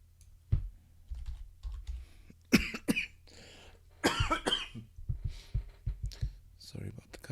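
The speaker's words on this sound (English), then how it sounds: "Sorry about the coughing." A man coughs several times in short bursts at a computer desk, close and sharp, mixed with clicks of keyboard typing and a few quiet spoken words in a quiet room.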